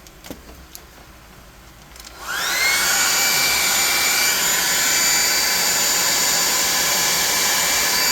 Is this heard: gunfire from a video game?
no